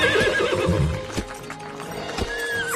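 Horses neigh and whinny in an animated Barbie cartoon, with clip-clopping hooves under a full music and effects mix, the neighs rising clearly a couple of times within a few seconds.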